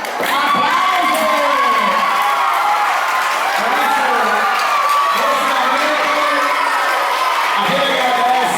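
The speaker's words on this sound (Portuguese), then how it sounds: "Aplausos!" A crowd of children and adults cheers and shouts after a poem recital at a school event in Bom Jardim, Brazil, loud and continuous, with whoops and voices over a bed of scattered applause.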